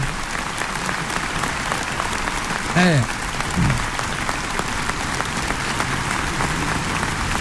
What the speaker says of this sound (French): applaudissements du peuple